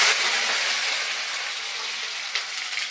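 Onions tipped into hot oil with darkened caramelized sugar for a chicken curry, giving a loud, dense, steady sizzle close by that holds from start to finish with no talking.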